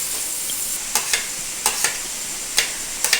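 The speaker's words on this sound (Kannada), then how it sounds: "ಚೆನ್ನಾಗಿ ಫ್ರೈ ಮಾಡ್ಕೊಳ್ಳಿ" Chopped onion, carrot, beans and cabbage fry in a little oil for fried rice, a constant close sizzle broken by several sharp spatula clacks and scrapes against the pan at irregular intervals.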